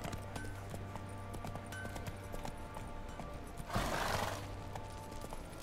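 A ridden horse's hooves clip-clop in a steady rhythm, close but faint, with a brief louder scuffing burst partway through.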